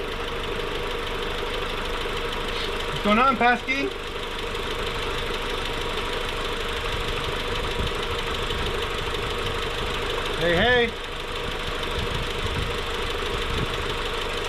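A rebuilt Toyota Supra MK4 engine idles steadily while warming up, with a constant, even rumble close by. Brief voices speak over it twice.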